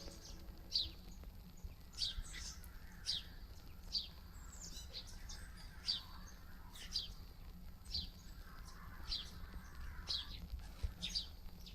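Repeated bird chirps coming from a wall in a Courage the Cowardly Dog video game, about a dozen short tweets in a steady rhythm over a low ambient drone, with no talking.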